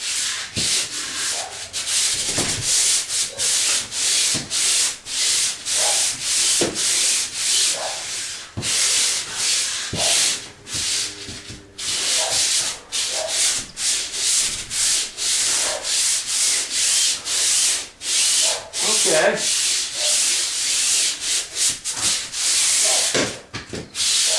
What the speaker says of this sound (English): then I can turn around and start sanding down this way